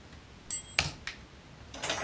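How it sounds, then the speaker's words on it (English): Knives struck together under a loose grip for resonant game sound effects, a handful of close metallic hits whose bright ringing tone sustains briefly after the first strike, with soft scraping rustles between them and no voices. "I just keep a loose grip and make the sound more resonant from the knives."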